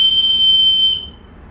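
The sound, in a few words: whistle toy on bird play stand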